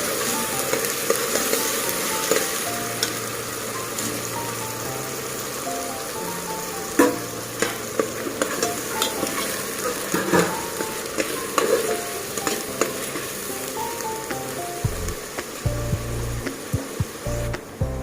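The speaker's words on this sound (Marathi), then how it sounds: "वाटणाला सुद्धा तेलामध्ये मस्त व्यवस्थित फ्राय करून घ्यायचं आहे" Ground masala paste frying in oil in a pan, a continuous bright sizzle under repeated scraping and clinking of a spoon stirring the paste, with louder knocks toward the end and no talk.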